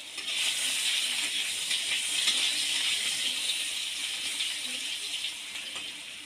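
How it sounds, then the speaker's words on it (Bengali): Potatoes sizzle in hot oil in a wok, giving a steady, bright hiss that holds loud and close throughout without talk. "তেলটা গরম হয়ে গেছে, আর আলুগুলো ভেজে নেব।"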